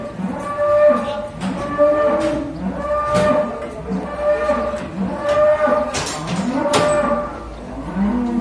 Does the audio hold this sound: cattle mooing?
yes